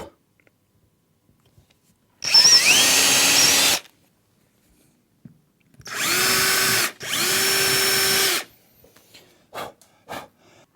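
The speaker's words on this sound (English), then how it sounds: "I'm going to pre-drill the holes." Power drill pre-drilling holes in a marked side panel while a Cooke & Lewis 150 pull-out unit is assembled: three loud, close whining bursts, one near two seconds long and two back to back, with quiet gaps and light handling noise after.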